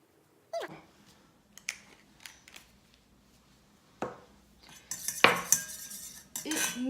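A homemade cosmetic mixture being stirred in a small container, with sparse, close clinks and scrapes of a utensil against the vessel that grow into a busier rattling toward the end, with no talking.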